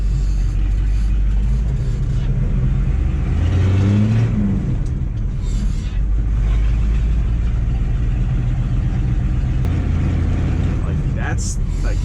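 A 1985 GMC 3500 pickup with a 6.2 Detroit diesel climbing a hill in third gear, a steady loud low rumble of the engine and road noise throughout, with a voice talking over it.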